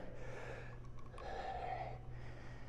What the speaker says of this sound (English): I don't know if you can hear my breathing, but it's already getting my heart rate up big time.